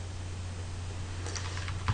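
Code is typed on a computer keyboard, with a few soft key clicks near the end over a steady low electrical hum.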